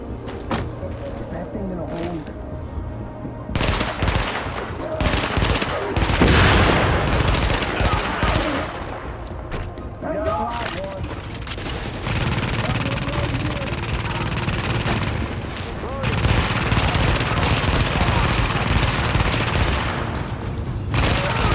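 Rapid, sustained gunfire and blasts from The Division video game fill the scene, with dense overlapping bursts of automatic fire and heavier booms continuing loudly throughout, while voices talk underneath.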